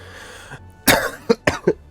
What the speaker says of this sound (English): quit coughing into the mic